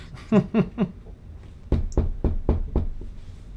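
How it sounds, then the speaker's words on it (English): Knocking on a door at an estate during a tabletop roleplaying dinner scene: a few soft muffled sounds, then five sharp, close knocks in a quick, even rhythm. "I'll knock on her door."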